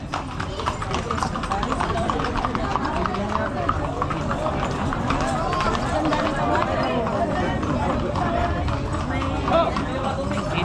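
Horses run in a traditional rural horse-riding game, their hooves clip-clopping in a fast continuous rhythm, loud and close, while people talk and call out over a crowd in the background.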